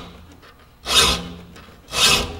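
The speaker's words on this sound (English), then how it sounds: "Now I have to file this fairly aggressively because there's quite a ways to go." A file rasps aggressively across the teeth of a handsaw, two distinct harsh strokes close up against a quiet background.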